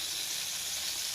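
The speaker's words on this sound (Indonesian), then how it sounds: "Kita goreng juga" Steady, dense sizzle of butter frying in a pan while preparing toasted fish bait, a continuous close hiss with no breaks.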